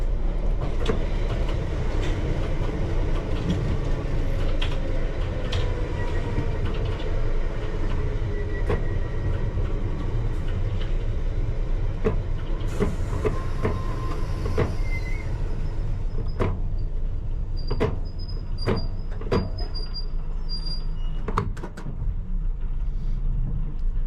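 A London Underground Piccadilly Line train runs eastbound at night toward Oakwood depot, heard from the cab with the offside door open: a constant loud rumble and rail roar, with sharp clicks and squeals from the wheels and track in the later part.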